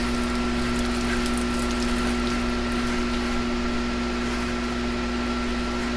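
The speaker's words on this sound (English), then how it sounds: "So the water now in recirc mode comes along here, and Rich is going to fill a bottle and take" Water from a purification system running in recirculation mode, heard as a steady hum from a pump with a constant tonal drone and a wash of flowing water, unbroken and even throughout.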